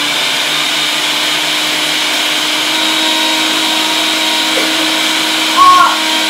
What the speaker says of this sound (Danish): Så blender vi en gang